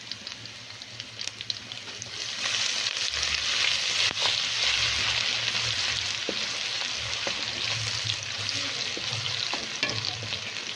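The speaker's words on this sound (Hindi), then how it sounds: "अब मैं इसमें शामिल करूँगी लहसुन अदरक का पेस्ट।" Garlic ginger paste hits hot oil in a pan for mash daal and sizzles steadily, a loud broad crackle with occasional sharp pops and stirring clicks, with no voices.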